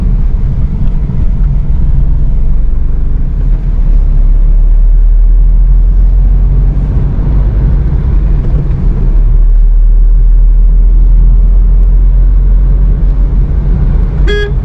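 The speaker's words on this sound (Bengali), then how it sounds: "দেখছেন কীভাবে চালাচ্ছে গাড়ি, এখানে এইসব রাস্তা এভাবে যাচ্ছে" Maruti Alto K10 car on a road, a steady loud low rumble of engine and traffic noise throughout with a short horn toot near the end.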